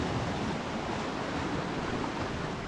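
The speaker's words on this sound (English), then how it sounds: "just watch the waves for a minute or two, hitting the rocks down here" Sea waves wash against the rocks beside the Portixol promenade in a steady, dense roar of surf, with some wind mixed in and no voices.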